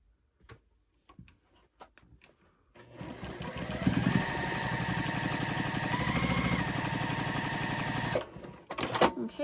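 A sewing machine stitches a quilt block in one sustained close run of about five seconds, framed by scattered ticks and handling clicks of fabric and machine before and after.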